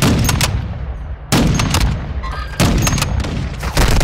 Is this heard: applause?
no